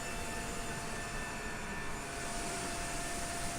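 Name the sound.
Boeing 747-8F plane engines during shutdown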